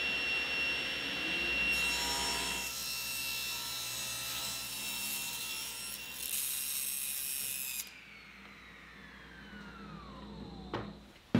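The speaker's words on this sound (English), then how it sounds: "I'll use the table saw to take 1/4 inch off of each side of the 2x4 to square it up" Table saw ripping a 2x4 to trim it square, with a loud high whine as the blade cuts through the wood, then the motor shuts off and its tone falls away as the blade spins down.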